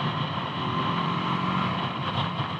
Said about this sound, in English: so exhaust mode பார்த்தீங்கன்னா இன்னும் slightly லவுடராக தெரியும் ப்ரீவியஸாக இருந்ததோட